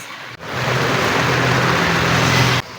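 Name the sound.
heavy rain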